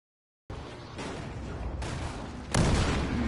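Bursts of gunfire and blasts in Battlefield Hardline beta, a first-person shooter set on city streets, loud and dense, arriving in several overlapping volleys with a heavier boom near the end, no talking.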